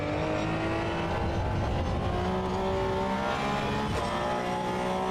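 Race car engine in Assetto Corsa Evo, droning steadily at high revs with shifting pitch and a brief spike near the end, close and continuous with no talk.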